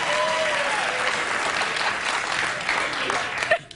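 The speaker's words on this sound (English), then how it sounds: "Don't ask them anything or they'll clap." Studio audience at a late-night talk show claps and cheers in a loud, dense, sustained burst that fades slightly near the end.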